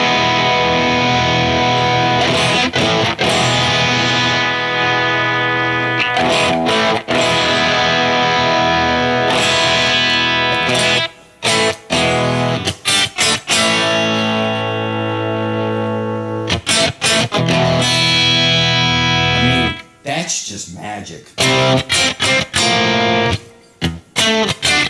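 An electric guitar runs through a Roland RE-150 Space Echo preamp with the tape echoes switched off, played as loud, sustained distorted chords and riffs with brief gaps of near silence between phrases.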